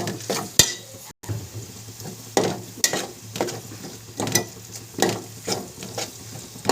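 Chili powder masala is stirred in a frying pan as it sizzles, with repeated scraping strokes of the spoon coming in an irregular rhythm over a steady frying hiss, close and fairly loud, and no talk.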